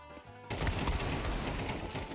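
Rapid gunfire in a Counter-Strike 2 Wingman match: a dense, loud burst of shots breaks in abruptly after half a second and rattles on without pause to the end.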